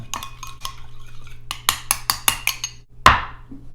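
A utensil stirring a salad dressing of honey and olive oil in a bowl: a quick run of sharp clinks and taps against the dish, ending in one louder knock, close and clear, with no voice.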